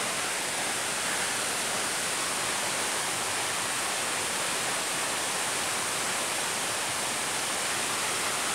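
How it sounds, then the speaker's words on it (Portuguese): Water rushes steadily at the Cascata da Pedra Branca waterfall in Três Forquilhas, Rio Grande do Sul, a loud continuous broadband roar filling the whole clip with no breaks and no voices. "Mas a cascata tá aí, ó."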